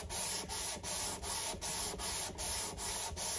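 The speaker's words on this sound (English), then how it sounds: "The 400 grit now is sort of smoothing off a business." Rhythmic back-and-forth strokes of 400 grit sandpaper across the frets of a Washburn acoustic guitar, about eight even rasping passes with brief gaps, close and steady, with no talking.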